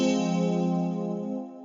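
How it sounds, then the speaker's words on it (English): A single synth chord from the Heat Up 3 VST plugin by Initial Audio, played with its reverb mix turned up, rings as a sustained rich tone and fades out near the end. "and I want to add more reverb, I could just turn my mix knob up."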